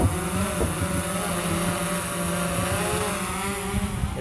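A DJI Phantom 3 Professional drone flying at full throttle in a horizontal speed test gives a steady, loud, droning motor whine that holds throughout with no talk.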